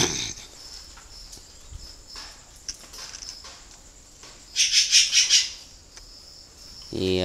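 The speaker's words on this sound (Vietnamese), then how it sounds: "đây là những chú chim mà mình thả nó trong khuôn viên như thế này" Spotted doves kept loose in a breeding enclosure, with a burst of several bright, close bird calls midway through the clip over quiet outdoor ambience.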